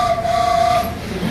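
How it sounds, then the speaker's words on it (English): A whistle blown to signal a stop in a meeting room, one steady sustained tone lasting under a second, moderately loud over faint room noise. "When it's time to stop, I will blow this whistle."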